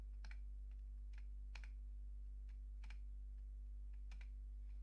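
Sparse, irregular clicks from a computer keyboard as data is typed into business software for a corrugated paper roll sale, with single keystrokes and short bursts over a steady low electrical hum.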